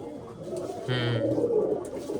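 A large pigeon in a fancier's loft coos once, a short close rolling call over a low background murmur.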